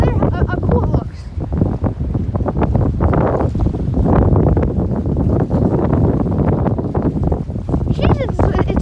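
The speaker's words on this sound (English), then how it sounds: "It's really windy right now" Strong storm wind buffets the microphone at a beach near a shaking dock, a loud continuous roar with gusty swells, while a person talks breathlessly over it throughout.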